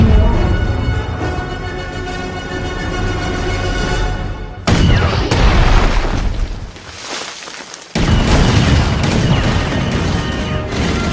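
Guns fire in a Ninjago animated scene: after a sustained musical passage comes a loud, dense barrage of blasts and booms that briefly dips, then surges back at full force.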